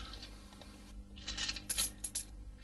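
Coin dropping, with quiet crisp metallic clinks and a short jingling rattle in the second half, close and faint against a low background hum.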